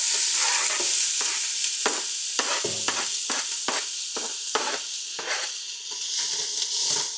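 Onions frying and sizzling in oil in one big pot for a chili cornbread casserole, a steady hiss broken by repeated clattering stirs, close and fairly loud, with no talking.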